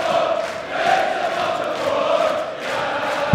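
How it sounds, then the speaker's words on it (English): A darts crowd at the 2014 Dutch Darts Masters chants Vincent van der Voort's name, a sustained, loud wall of massed voices that swells and dips in a loose rhythm. "Crowd chanting the name of Vincent van der Voort"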